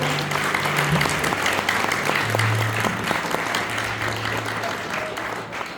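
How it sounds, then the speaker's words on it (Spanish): A charismatic prayer group congregation gives a strong, sustained round of applause in a church hall, thick and continuous, with voices and tones faintly underneath. "Le damos un fuerte aplauso a nuestro Señor Jesucristo"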